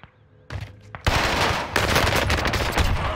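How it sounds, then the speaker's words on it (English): Owen Gun fire in Call of Duty: Warzone, a few sharp shots then a sustained loud burst of rapid automatic fire, close and continuous. "I missed my shot because the OWEN GUN is so goddamn big, I can't see nothing."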